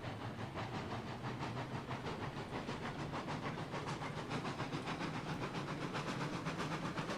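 A steam train in the railroad game RailRoads Online starts rolling, with a steady, fast run of hissing chuffs pulsing evenly over a constant low rumble.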